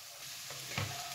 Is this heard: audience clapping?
no